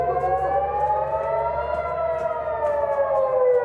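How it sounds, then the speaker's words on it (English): Air raid sirens wail across Tel Aviv at dawn during an Iranian missile attack, a loud, sustained wavering tone that rises and slowly falls, with no talk over it. "dawn sirens sending people across Israel's biggest city for bunkers"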